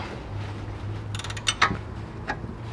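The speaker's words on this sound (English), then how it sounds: "Now we need the 17mm socket and a 17mm spanner. And you're going to do these 2 bolts up really tight." A 17mm socket ratchet and spanner tighten two steering bolts on a Mitsubishi 3000GT/GTO during CV boot work, giving a quick run of close ratchet clicks followed by a few metallic clunks and creaks.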